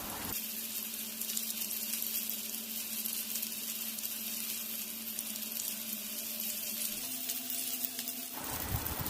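Crushed garlic cloves sizzle in hot oil alongside pieces of surmai (kingfish) in a pan, a steady close frying hiss that shifts midway and cuts off near the end.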